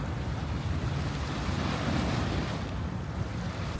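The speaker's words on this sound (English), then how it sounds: "the sound of the water is so soothing" Water sloshing against a pier at a New York City seaport, a continuous close wash of lapping water heavily buffeted by wind rumbling across the microphone, with no talking.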